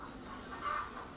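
Hens that lay green eggs clucking at a farm near Karadeniz Ereğli, a faint, steady murmur of fowl with one slightly louder cluck midway, no talk.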